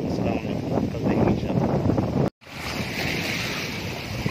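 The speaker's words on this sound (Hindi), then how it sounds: "देखिए भाई समंदर में लोटा मार रहा पानी" Sea waves crash and wash steadily at a windy fishing spot, loud and close, with microphone wind rumble and a brief dropout midway.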